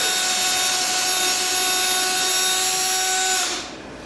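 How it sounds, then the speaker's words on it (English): A power drill whines steadily as it bores through stacked wood boards, running continuously at high speed, then winds down near the end. "You want to go through the first board completely and only partially on the second board"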